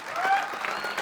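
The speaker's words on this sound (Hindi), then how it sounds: "सही मायने में तो कुलदीप खातिन सबके ताली बजावे के चाहिए।" Crowd applauding at the Sabrang Film Awards, a Bhojpuri film awards show, in a short, steady burst of clapping.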